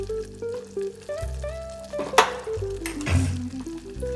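Garlic goes into hot oil for a homemade amla pickle and sizzles and crackles close by, with a sharp spatter in the middle and clinks from a utensil over a steady hum.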